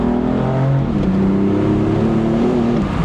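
BMW M4 with the S55 engine and crank hub upgrade, exhaust and tune, accelerating hard and losing traction: a loud, close, steady engine drone with rising and falling harmonic pitch over three seconds, no talk.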